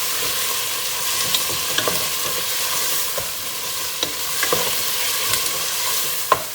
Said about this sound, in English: and let the tomato cook